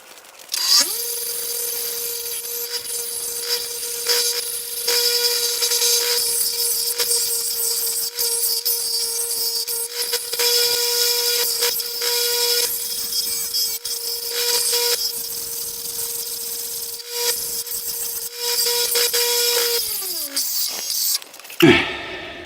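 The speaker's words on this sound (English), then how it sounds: "So I'm going to grind this real quick and we'll go from there." A power grinder works on a leaking trailer valve, holding one loud, steady tonal whine for about twenty seconds with gritty scraping bursts over it, then winds down and stops near the end.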